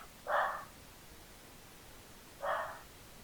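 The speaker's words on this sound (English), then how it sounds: "it sounds like she's barking at someone off the deck" A dog barks twice off a deck, two short muffled barks about two seconds apart, distant and faint over a quiet room hiss.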